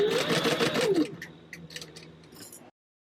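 A sewing machine stitches fabric panels for an upper gusset and top main panel, running in a fast, close whir for about a second, then slowing into scattered clicks before stopping.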